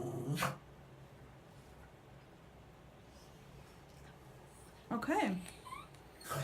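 A dog gives two short whimpering, whining bursts, one at the start and one near the end, faint and close in a quiet indoor room with no talk between them.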